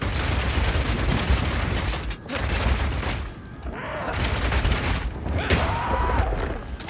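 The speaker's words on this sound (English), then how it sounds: "Being able to run while shooting with Rapid Shot is also great for when you want to perform a fighting retreat." Rapid Shot from a mercenary in Path of Exile 2 fires as a dense, continuous fusillade of loud gunfire with brief gaps around the reload, mechanical clatter mixed through.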